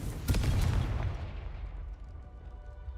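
A Confringo fire spell blasts in the Hogwarts Legacy video game, a sharp booming burst of several quick cracks followed by a rumbling decay that fades over a couple of seconds.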